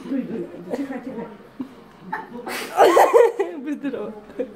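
A single close sneeze bursts out in a home setting, surrounded by laughter and chatter from people nearby.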